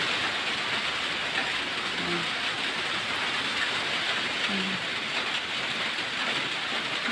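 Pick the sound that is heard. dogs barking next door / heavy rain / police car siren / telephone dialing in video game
heavy rain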